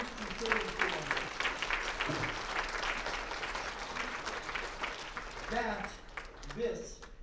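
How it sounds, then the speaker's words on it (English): Audience clapping at an Arizona gubernatorial debate, a steady patter of many hands with voices mixed in and a few louder bursts near the end. "now is a good time to clap"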